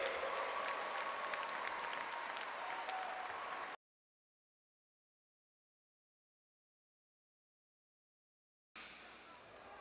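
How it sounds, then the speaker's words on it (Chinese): A crowd at the 2015 World Speed Skating Championship track event in Kaohsiung applauds in a dense, sustained roar of clapping. It breaks off into a stretch of silence, then resumes briefly. "掌声鼓励"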